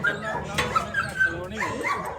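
A dog barks and yips at a farmhouse, several short sharp calls in an irregular burst, close by and mixed with background voices.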